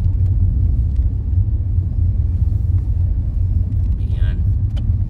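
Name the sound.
morning road traffic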